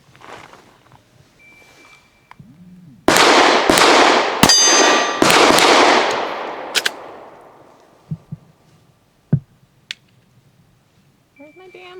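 A Sarsilmaz ST9 pistol fires SIG 115 grain rounds in a loud rapid string of about five sharp, close shots with ringing decay. A few quieter clicks and knocks follow.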